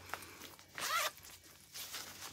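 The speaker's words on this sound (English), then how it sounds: "You know, another big zipper." A big zipper on a carry-on travel bag is pulled in one loud, close rasping stroke, with a softer zip following after a pause.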